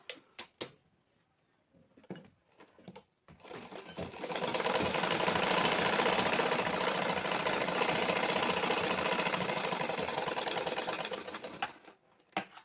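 A sewing machine runs a straight seam along a blouse placket (button strip), starting after a few brief handling clicks and then whirring loud and steady for about eight seconds before stopping.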